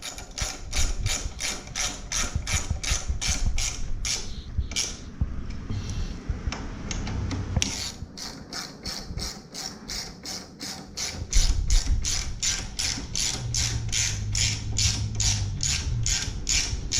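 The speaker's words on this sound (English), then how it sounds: "Now we can get our socket on this time." A socket ratchet loosens bolts on the backrest of a Yamaha Vmax motorcycle, with steady rapid clicking close by throughout, a brief change in texture midway, and no talk.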